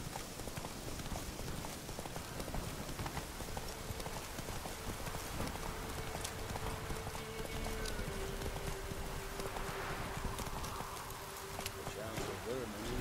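Roach, the horse in The Witcher 3, gallops in a quick continuous run of hoof clip-clops under a dense, noisy game soundscape, with a steady tone running through the middle and a voice speaking over it.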